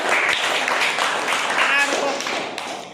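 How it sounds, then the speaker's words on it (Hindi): A classroom of children claps in a dense, steady patter, with voices mixed in throughout. "तालियां बजाओ।"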